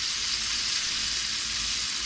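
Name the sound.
pork searing in a pan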